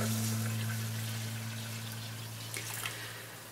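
Water pours steadily into a blender jar holding oats, a close trickling splash with a low steady hum underneath, fading slightly toward the end.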